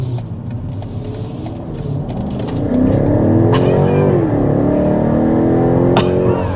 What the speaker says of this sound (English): we're going to go ahead and start out with a hard acceleration. See what this V8 is all about.